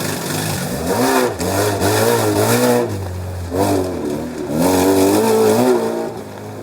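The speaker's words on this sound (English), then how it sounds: "No other words could describe the sheer noise coming off his Freelander" A Land Rover Freelander with a faulty exhaust revs hard in repeated rising and falling surges, loud and raspy with a deep booming drone, passing close by over several seconds.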